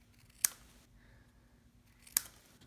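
Two crisp scissor snips cutting paper pennant ends for a Stampin' Up Dashing Deer card, spaced about two seconds apart, close and clear against a quiet room.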